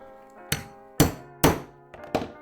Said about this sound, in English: we'll mark those holes and punch those out